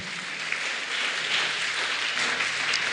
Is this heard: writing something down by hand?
no